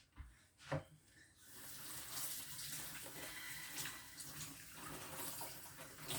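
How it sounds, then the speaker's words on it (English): Pak choy is rinsed under a running kitchen tap. A short clatter comes first, then a steady, close, rushing stream of water splashes over the leaves. "you just rinse it off because look, it's a bit dirty"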